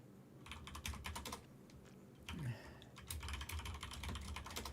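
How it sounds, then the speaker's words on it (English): Rapid clacking of computer keyboard keys in irregular bursts with short pauses, close and fairly loud, with faint voices and low background sound beneath. "Let me try typing on there"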